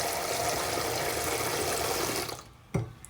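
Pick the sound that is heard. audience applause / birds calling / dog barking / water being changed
water being changed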